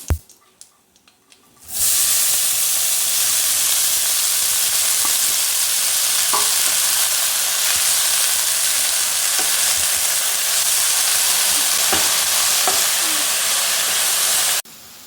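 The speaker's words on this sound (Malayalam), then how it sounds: "കടുക് പൊട്ടി ഇനി നമുക്ക് വറ്റൽ മുളകിടാം" Dried red chillies go into hot oil with spluttering mustard seeds for a fenugreek-leaf and sprouted green gram thoran: after a quiet moment, a loud, steady sizzle with scattered pops and crackles fills the rest.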